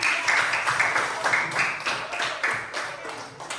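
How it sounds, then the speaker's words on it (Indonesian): Classroom applause for a student group called to the front: a dense wash of many hands clapping, steady and fairly close for a few seconds, fading slightly toward the end. "Jadi kita beri aplaus dulu untuk kelompok."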